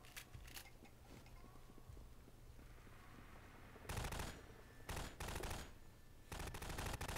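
Bursts of machine gun fire in Half-Life 2, loud rapid volleys arriving in three separate clusters over a low, steady game-ambience hum, with fainter scattered shots earlier on.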